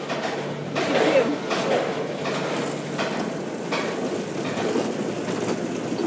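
A roller coaster train at Six Flags America rolls along the brake run, giving a steady rumbling, rattling clatter at moderate distance with no talk over it.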